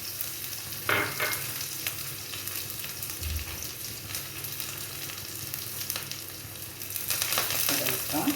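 Onions frying in hot oil with mustard seeds in a pan for a dried shrimp and mango curry, a steady close sizzle with occasional stirring scrapes and a louder burst of crackle near the end.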